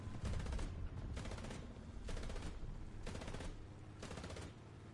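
Gunfire in the tank game War Thunder rings out in five evenly spaced bursts of rapid shots, each about half a second long, over a low engine rumble.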